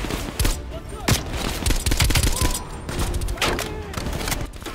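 Rapid gunfire from Call of Duty: Black Ops Cold War, dense bursts of automatic shots and thuds filling the whole stretch, loud and close, with a voice talking over parts of it.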